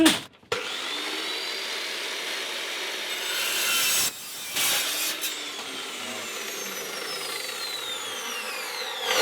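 A chop saw cuts through rusty metal in a garage workshop, a loud, sustained abrasive whine and grind that dips briefly midway and then carries on steadily to the end.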